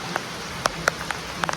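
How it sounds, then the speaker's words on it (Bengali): Heavy monsoon rain comes down as a close, continuous patter, with sharper individual drops striking a surface at irregular moments. "ভালো জোর বৃষ্টি হচ্ছে"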